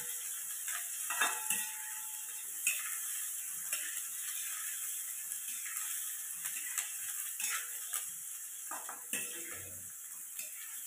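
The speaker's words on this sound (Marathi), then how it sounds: "आता कांदा छान आपण गुलाबी रंगावर येईपर्यंत परतून घेऊ" Finely sliced onions fry in a kadhai, a steady soft sizzle running throughout with repeated scraping stirs of a spatula against the pan, close and moderately quiet.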